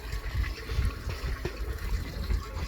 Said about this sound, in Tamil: தொட்டிலுக்கு தண்ணி.